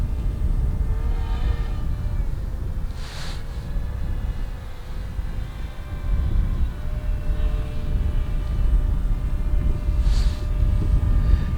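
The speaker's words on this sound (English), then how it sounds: "I'm at full throttle, and we're about, strong wind, so I'm going to bring the drone down." A DJI Mavic Mini drone flies at full throttle in strong wind, its steady whining motor hum sitting under heavy wind rumble, with two brief louder gusts.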